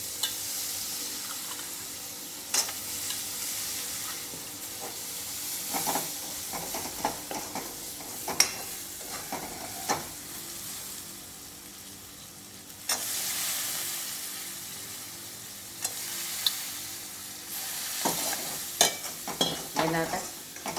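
Peas fry in a pan while a spoon stirs them for a dry gobi matar sabzi. A soft sizzle runs underneath, with intermittent scraping stirs and clinks, and a brief tap-water rush is heard near the middle and near the end.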